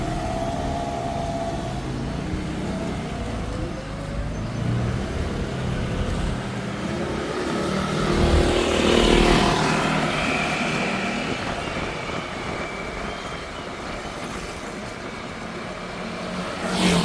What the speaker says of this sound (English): See, even on Sunday morning, there is traffic here.